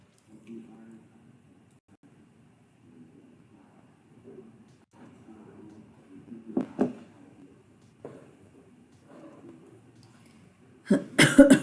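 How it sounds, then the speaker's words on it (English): Several short, dry coughs break up quiet murmuring, with a louder burst of coughing near the end. "I'm really sorry if my cough bothers you"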